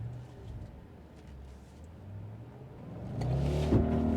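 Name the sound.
Audi S5 4.2 V8 accelerating from launch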